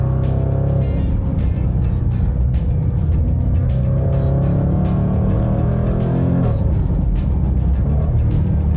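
A 2024 Jaguar F-PACE SVR performance SUV engine revs loudly and continuously with a raucous, rumbling growl, the pitch shifting slightly partway through, close and dominant.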